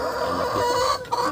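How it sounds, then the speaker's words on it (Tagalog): A Barred Plymouth Rock chicken clucks in a farm setting, a short, fairly close, continuous burst of soft clucking with no voices. "Barred chicken. Barred Plymouth Rock."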